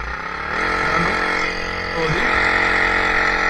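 A boat's outboard engine, started by pulling the rope, catches and rises to a steady, loud running drone close by, with a brief voice under the noise.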